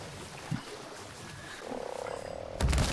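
A frog in the video game Ark Survival Evolved croaks in a rising, rhythmic ribbit, with a short thud before it and a louder burst at the end.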